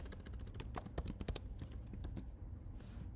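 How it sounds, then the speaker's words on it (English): Quick keystrokes on a computer keyboard as a command is typed, a fast irregular patter of clicks close by with short pauses and no voices. "you would type AltAnalyze"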